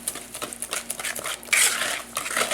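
Coconut pie batter with eggs and melted butter stirred in a bowl: quick rhythmic swishing strokes with light clinks of utensil against the bowl, close and moderately loud, no talk.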